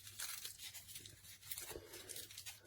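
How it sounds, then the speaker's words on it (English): Packaging around a roll of pH litmus test strips is torn and unwrapped, giving faint, close crinkling and tearing rustles in short, uneven bursts. "if I undo the packaging"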